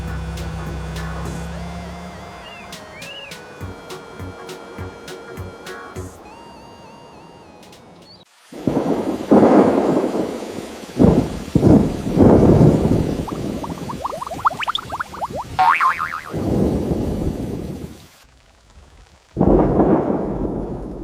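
Heavy thunderstorm with loud rumbling thunderclaps and rain, bursts of booming noise rising and falling over several seconds after a quieter opening stretch.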